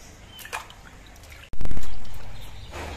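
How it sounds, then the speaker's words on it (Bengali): Water lily stems are washed gently by hand in a bowl of water: soft drips and small trickles close up, then a louder slosh and splash halfway through. "আমি গামলার মধ্যে বেশ কিছুটা পরিমাণ জল নিয়েছি, এবার আলতোভাবে ধুয়ে নেব।"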